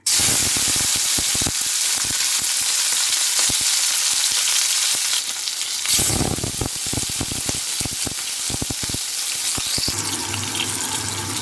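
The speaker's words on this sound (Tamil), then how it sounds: "நல்லா எண்ணெய் கொதிச்சிட்டுது. இப்போ வெங்காயத்தை போட போகிறோம்." Onions sputter and crackle in hot oil, giving a loud, dense sizzle that runs unbroken throughout, with scattered clinks and a short surge of frying noise partway through, and no voices.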